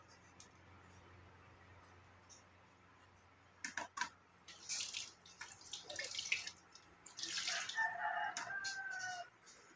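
Tap water runs and splashes in bursts while unripe tomatoes are washed by hand, starting after a few seconds of quiet outdoor background, with a rooster crowing faintly nearby.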